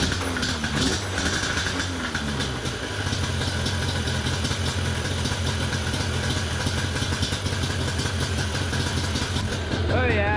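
A Yamaha Banshee 350 ATV engine, freshly fitted with air filters after carburetor work, idles with a steady mid-pitched putter that runs continuously under nearby talk.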